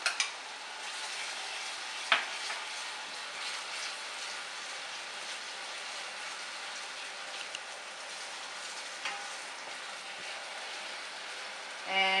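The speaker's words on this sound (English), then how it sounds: "So it's on a high heat and we'll keep frying this till it turns brown." Onions with ginger garlic paste frying on high heat, a soft steady sizzle with occasional stirring clinks and scrapes, fairly faint and without talk.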